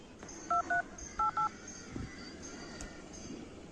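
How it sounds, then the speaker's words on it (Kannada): Four short paired-tone beeps of a phone keypad dialing a personal number, clear and close in two quick pairs over a low background hum. "ಪರ್ಸನಲ್ ನಂಬರ್ ಕಾಲ್ ಮಾಡ್ತಿರೋದು ಈಗ ಅವ್ರಿಗೆ ನೋಡಿ"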